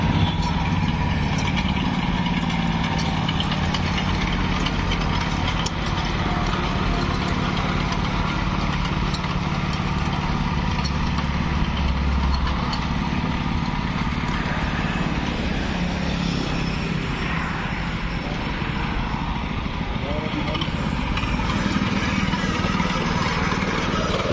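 A chain cultivator farm machine for inter-row weeding and earthing up runs steadily, its small engine droning and chattering at an even level throughout, close and loud, with no speech.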